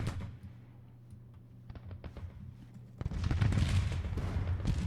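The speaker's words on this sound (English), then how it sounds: "Regiment some fire from our 6-pounder field guns." 6-pounder field guns fire in the Civil War strategy game Grand Tactician during the Battle of Wilson's Creek: a few scattered faint reports come first, then a louder, rumbling barrage of cannon fire.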